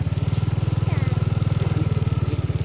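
A motorcycle engine thumps along in a fast, steady pulse close by while someone speaks over it.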